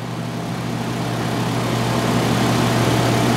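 A 2005 Toyota Camry LE with a 2.4 liter California-emissions engine idles steadily, a low even hum close by with no talking.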